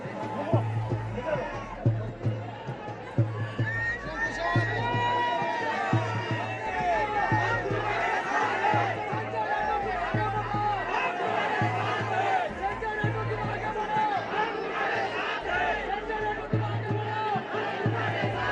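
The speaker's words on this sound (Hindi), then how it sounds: "वन मंत्री संजय राठौड़ वाशिम स्थित बोहरा देवी मंदिर पहुंचे और समर्थकों की ऐसी भीड़ जुटाकर कोविड-19 गाइडलाइंस की धज्जियां उड़ाई।" A large crowd of supporters gathered at the Pohradevi temple in Washim, a dense continuous roar of chatter and shouting voices, loud and close, with rhythmic drumbeats pounding steadily underneath throughout.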